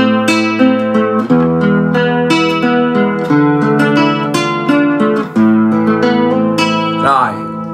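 Clean Kalena classical acoustic guitar chords and single notes through its built-in chorus effect, with a shimmering, slightly wavering tone, played steadily and closely with no voices.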